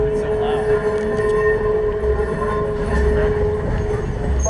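Hutchison and Northern #1 switch locomotive at a rail festival, running loudly with a steady engine drone, a prominent sustained tonal whine and metallic rail squeals, close and continuous.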